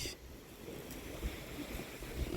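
Steady gusty wind roars across the microphone in a UK garden in mid-June, a broad constant rush with low rumbling buffets and no voices.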